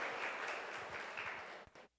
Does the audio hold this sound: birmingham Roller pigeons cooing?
no